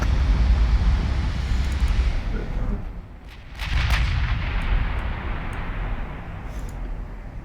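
Heavy naval gunfire from a battleship in a game, deep booming blasts with a rumbling roar that dips briefly before a second salvo swells back, loud and sustained with no talk.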